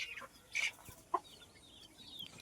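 Hens on a desi chicken farm in rural India, gathered around pots of drinking water, give a few short, faint clucks scattered among quiet farmyard background noise.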